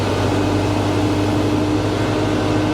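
A steady, loud whooshing hum of a tractor cab's air conditioner blowing on high, unchanging throughout with a low droning tone underneath.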